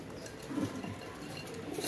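Royal teddy pigeons cooing softly, a short, faint low coo set against a quiet background, with no voices.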